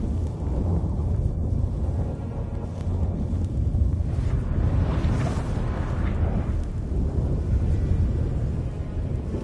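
A fierce storm in The Witcher 3 video game, deep rumbling thunder and roaring wind that run continuously and loudly, swelling and easing with no voices.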